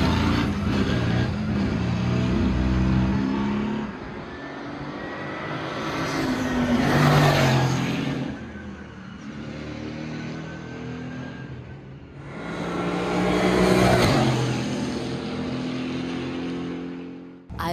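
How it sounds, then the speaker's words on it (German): GT4 race cars pull out of the pit lane onto the track at the Sachsenring during the ADAC GT4 Germany, with engines droning loudly as they pass close by in two rising swells, and no talk. "wie die Rennwagen startklar gemacht wurden und schließlich aus der Box auf die Strecke fahren."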